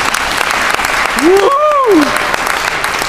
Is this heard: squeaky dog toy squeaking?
no